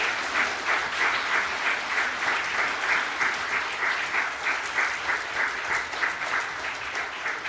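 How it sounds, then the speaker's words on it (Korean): At a Christmas Day church service, a congregation gives dense, sustained applause to welcome new members, a full roomy wash of many hands clapping steadily throughout. "여러분들께서는 박수로 환영해 주시기 바랍니다."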